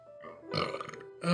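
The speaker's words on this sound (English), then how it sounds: "I thought I was about to burp." A person burps twice close to the microphone: a short croaking burp, then a louder, fuller one at the end.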